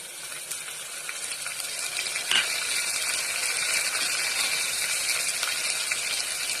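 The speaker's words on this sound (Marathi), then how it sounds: "नंतर आपली डाळ परतवून घ्यायची चण्याची" Chana dal being sautéed in a pan for a Maharashtrian ridge gourd (ghosala) bhaji after ginger-garlic paste goes in: a steady bright sizzle with scraping and clicking stirring sounds throughout, fairly close, no talking.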